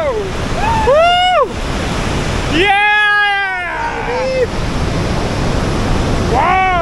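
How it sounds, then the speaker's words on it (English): Victoria Falls roaring as a loud, steady wash of broadband noise close by on the Knife Edge Bridge, with people whooping and shouting excitedly over it. "And this is the falls!"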